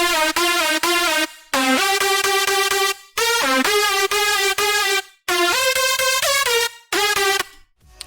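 A loud, bright synth lead made in FL Studio Mobile plays a phrased melody, its notes gliding and bending between pitches, separated by short gaps.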